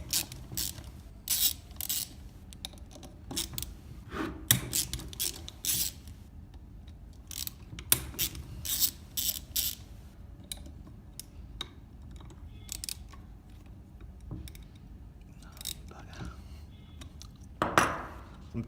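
A ratchet socket wrench with an 8mm socket loosens the four through bolts of a pump's AC motor, giving close, repeated bursts of sharp metallic clicking separated by short pauses, with no talking.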